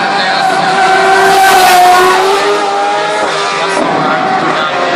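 Felipe Massa's Formula 1 car warms its tyres in Warsaw, the engine loud and near with a high rising-and-falling whine and tyre noise, a voice faintly beneath it.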